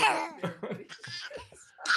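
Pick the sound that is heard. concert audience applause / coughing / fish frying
coughing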